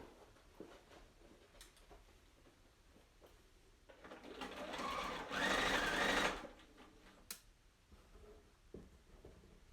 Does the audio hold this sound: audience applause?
no